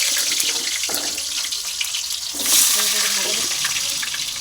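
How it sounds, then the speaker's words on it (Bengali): Potatoes fry in a pan after eggs have been cooked, giving a continuous bright hiss and sizzle that swells briefly toward the middle. "আলুটা ভাজবে।"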